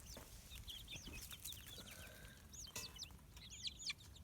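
Small young chickens in an off-grid backyard coop give scattered clucks and chirpy calls, fairly quiet, over steady low background noise.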